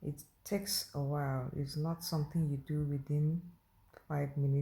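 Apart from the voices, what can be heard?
No everyday noise stands out behind the speech.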